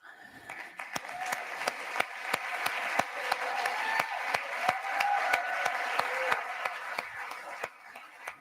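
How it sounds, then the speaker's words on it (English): An audience at the closing ceremony of the EPHC 2024 public health conference in Lisbon claps, a moderate, steady round of applause with distinct individual hand claps standing out, heard from a middle distance in a large hall. "I would like to say a very big round of applause to the two chair of Lisbon Conference"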